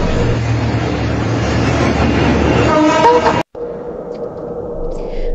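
A northbound train roars through the Mongpuria level crossing with heavy, continuous rail rumble and a short horn blast, then the sound cuts abruptly to quieter ambience.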